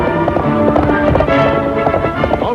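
Horse hooves clip-clop steadily and close, a brisk rhythmic clatter of several animals moving together, with a dense rumbling background and no voices.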